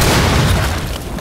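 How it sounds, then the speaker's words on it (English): A breaching charge detonates in Rainbow Six Siege, a loud, dense, rumbling boom filling the whole short moment before slowly easing off, with no voices. "Deploy glitch charge. Set your charge."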